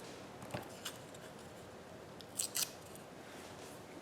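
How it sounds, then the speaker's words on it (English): Scissors snip paper for an everyday journal page, a few quiet cuts early on, then a crisp double snip near the end against a hushed room. "Let's just trim off some of that yellow."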